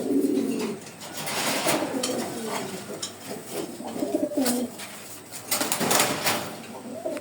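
Several pigeons coo repeatedly at close range in a loft, soft throaty rolling calls overlapping with occasional wing flutters and light clatter.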